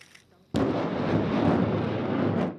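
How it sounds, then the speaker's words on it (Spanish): A US-made rocket launcher test-fires in Taiwan: a sudden loud blast erupts after a brief quiet moment, then a sustained roaring rumble carries on for about two seconds before fading. "Tras la primera prueba de disparo de este lanzacohetes estadounidense en mayo"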